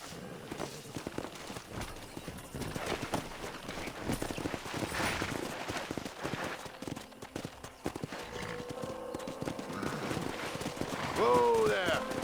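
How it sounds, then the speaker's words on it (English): Hooves clip-clop steadily over ground as a pack of wild horses moves along in Red Dead Redemption 2, mixed with ambient game sounds and a brief whinny near the end. "there's a pack of wild horses nearby"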